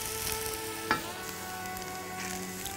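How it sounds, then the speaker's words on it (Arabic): Onions sizzle and brown in a pan, a steady close frying hiss with one brief clack of a utensil partway through and no voices. "انا بس عايزة البصل يتحمر حاجة بسيطة كمان"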